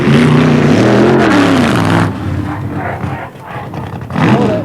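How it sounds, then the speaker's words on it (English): Wheelie Stingray drag racing car driven by Roy Phelps at the 1973 Santa Pod Internationals, a loud close engine roar that rises and falls in pitch, then drops back to a quieter rumble before surging again. "This is the Wheelie Stingray. Driven by Roy Phelps, this car is especially designed to cover the standing start quarter mile on its rear wheels only"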